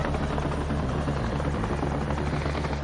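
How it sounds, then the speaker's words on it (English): A helicopter's steady, loud rotor drone fills the air, a low thumping roar that holds constant throughout with no voices. "Helicopter coming."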